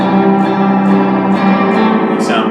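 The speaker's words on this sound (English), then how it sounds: "Someone's tuning and detuning your guitar while you're playing it" Guitar played through an EarthQuaker Sea Machine chorus pedal set for a wild pitch wobble, sustained notes warbling unevenly in and out of tune, loud and close with rhythmic swells.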